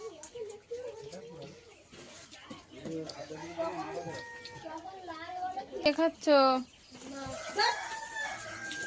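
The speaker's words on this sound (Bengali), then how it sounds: "তুমি মুরগি দেখছো" Chickens clucking close by with a rooster-like call, short irregular bursts mixed in among people talking.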